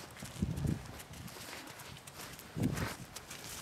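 A four-day-old foal loping, with soft, faint hoofbeats in two brief clusters over quiet outdoor ambience.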